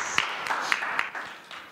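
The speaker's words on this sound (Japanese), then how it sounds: "じゃあ大きな歓迎の拍手をもってお迎えしましょう" A small classroom audience claps to welcome guest teachers, a brief, faint patter of scattered hand claps.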